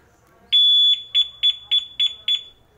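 A two-way motorcycle alarm being installed on a Mio i 125 gives one longer beep and then five short, evenly spaced, piercing beeps, loud and close.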